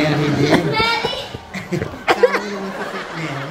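Children playing and chatting inside a house, their high voices mixing with giggles and laughter in a lively, close-up jumble.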